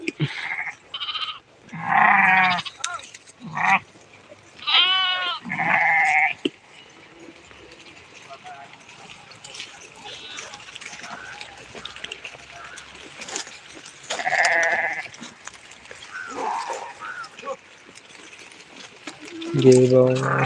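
Several sheep bleat loudly and close by in wavering cries, in clusters with quieter gaps, over faint rustling background noise.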